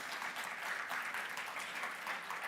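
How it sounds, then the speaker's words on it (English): Audience applause for a panel of speakers at a crypto conference in Split, Croatia, a steady dense patter of many hands clapping at moderate distance, fairly quiet, with no voices over it. "Please give them a huge round of applause"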